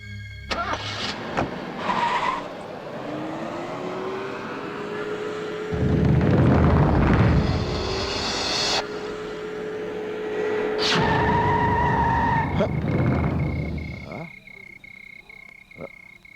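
A car in a Hindi horror action film drives along with a steady engine rumble that swells, then quiets as it comes to a stop, with croaking frogs and insects loud around it at night.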